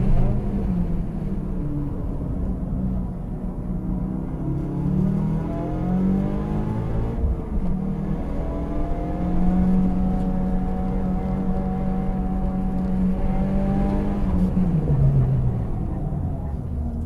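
A 2015 Subaru WRX with a new suspension setup accelerating hard around Thunderhill West race track, engine pitch climbing and dropping through gears in repeated revving sweeps, loud and close from the cabin.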